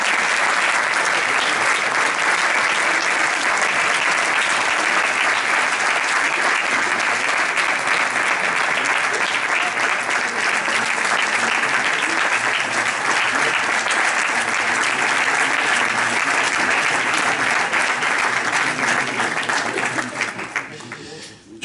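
A sustained ovation fills the hall at a book launch, dense continuous applause from a large audience holding loud and even for about twenty seconds before tapering off at the close.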